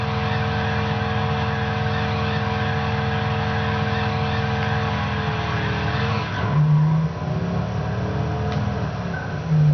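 A video game car in Midnight Club LA does a nitrous-boosted burnout: a loud, steady engine roar with tire squeal, then a sudden drop and shift in tone near the end.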